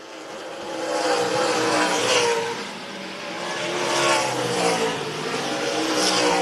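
Stock race cars at Franklin County Speedway roar past in a pack, engines surging and fading in waves as they circle the short track, loud and continuous with a faint crowd wash beneath.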